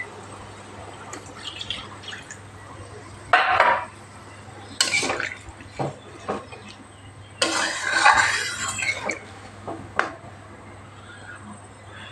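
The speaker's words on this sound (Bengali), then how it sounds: "এবার হচ্ছে ঝোলের জন্য জল ঢেলে দিতে হবে" Water is poured into a pan of bottle gourd and hilsa curry for the gravy, heard as several bursts of splashing and trickling with drips and pot knocks between them, over a low background hum.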